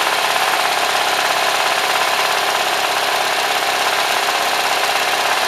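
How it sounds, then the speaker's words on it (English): A small homemade engine, the Vaper's 001, runs steadily as its muffler warms, giving a loud, continuous mid-pitched drone with a faint knocking texture and no break. "it's running a little bit longer now that the muffler's warming up the gas"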